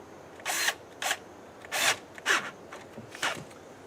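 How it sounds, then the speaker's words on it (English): Several short bursts of a power drill with a 5/16 inch bit tightening a no-hub pipe clamp, each lasting a fraction of a second, with brief pauses between them in a quiet room. "good handy-dandy drill, 5/16 inch bit, tightens that thing right up"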